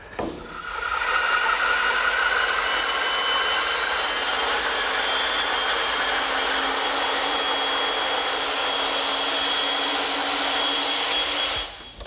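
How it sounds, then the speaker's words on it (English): A bandsaw rips through wood to rough out a butcher block, giving a loud, steady broadband whir with a faint motor tone that runs nearly unbroken for about eleven seconds before stopping. "To remove the rest of the material, I'm turning to my bandsaw."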